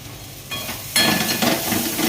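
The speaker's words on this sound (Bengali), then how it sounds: "কী করবো, এগুলো এগুলো ভেজে ফেলবো" Pointed gourd and eggplant pieces fry in hot oil, the sizzle jumping louder in two steps as more pieces hit the pan, then holding a steady close hiss.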